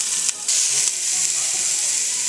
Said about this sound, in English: Now I'm gonna be frying my onions.